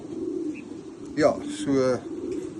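A pigeon coos in a loft, one rolling coo and a second bubbling call, fairly close, with someone speaking briefly before it.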